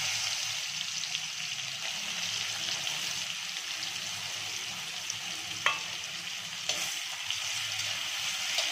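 Onion and whole spices fry in hot oil for an egg biryani, a steady, close sizzle running throughout with a couple of sharp clicks of a spoon against the pan near the end.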